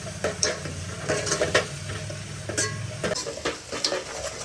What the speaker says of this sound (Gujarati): હવે કાંદા નાખી દેવાના.